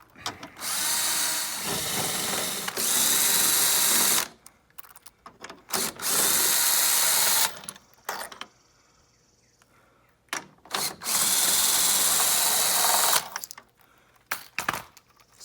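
A power tool on a Ram truck drives out 10 mm grille bolts in several loud sustained whirring runs separated by pauses, with small clicks and handling sounds between them, close up and with no speech.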